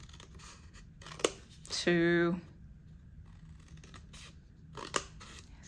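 Scissors snip through folded paper while a wreath is being made, giving one short crisp cut between spoken counting that carries on quietly before and after.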